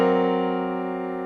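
Piano sounds a major triad over a tritone in a gospel style: one chord struck together and left to ring, sustained and slowly decaying, alone with no talking.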